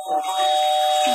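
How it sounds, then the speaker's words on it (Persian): A house doorbell rings with a steady sustained electronic tone that starts almost at once and holds to the end, fairly loud and close. "زنگ دروازه است"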